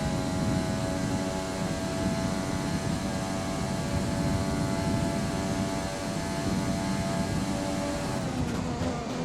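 A Formula 1 car engine in rich fuel mode in F1 2020, lapping in practice at the Mexican Grand Prix, gives a loud, steady, dense whine that holds for several seconds before shifting briefly near the end.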